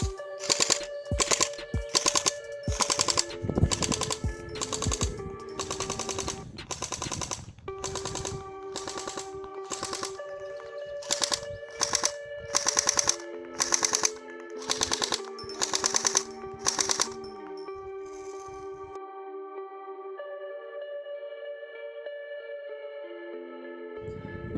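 A Jing-Gong RPK-74 airsoft replica fires full auto at 30 metres with 0.20 g BBs and its original battery: repeated rapid mechanical bursts with short pauses, loud and close, ending in a quieter stretch.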